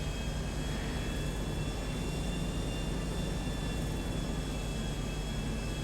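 Steady airplane engine drone from a fixed-wing aircraft flying high over a bay in Grand Theft Auto V, a constant close whine with tonal hum, no voices.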